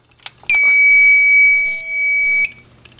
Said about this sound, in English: that's going to be it for System Test 9 and also the Mate fire alarm test